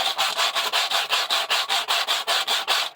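Hand sanding of rust on a car body with 80 grit sandpaper, a close, rhythmic scratchy rasp of quick back-and-forth strokes, about five per second, repeating evenly with no talk.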